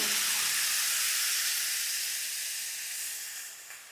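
A loud, steady hiss of steam and sizzling that slowly fades as water is added to frying cauliflower in a pan.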